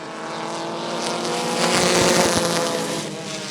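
Race cars roaring off at the start of a 12-lap feature at Rockford Speedway, a swelling pack of engines building in loudness toward the middle then easing slightly, heard at a distance without talk.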